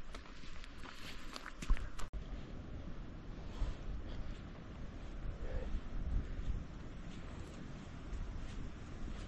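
Footsteps crunch along a hiking trail toward Horton Plains near Ohiya, Sri Lanka, a steady walking rhythm under gusty wind buffeting the microphone, with no talk.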